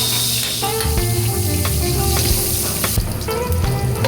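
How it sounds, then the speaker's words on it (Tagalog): Garlic and onion sautéing in hot cooking oil, crackling sizzle throughout with clinks of a utensil against the pan, near and fairly loud. "lagay ang mantika, lagyan natin ng bawang"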